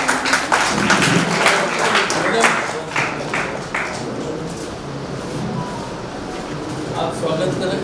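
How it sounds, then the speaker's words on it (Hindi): An audience applauds at the closing ceremony of a Hindi language fortnight at a law college, with brisk, dense clapping at first that thins after a few seconds into scattered claps and a low room murmur. "आपकी तालियां बजती रहे।"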